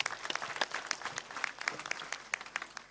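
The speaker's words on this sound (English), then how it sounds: "A hearty clap for our chief guest" Faint, scattered clapping from the audience at a polytechnic graduation ceremony welcoming the chief guest, thin and distant with individual claps standing out.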